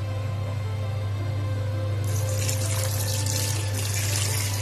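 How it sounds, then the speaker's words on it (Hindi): Cooled boiled water poured steadily into a jar of spices for turnip pickle, a continuous close splashing trickle over a low hum, growing brighter partway through. "अब हम इसे इस जार में डाल देंगे जिसमें हमने मसाले पहले से ही डाले हैं।"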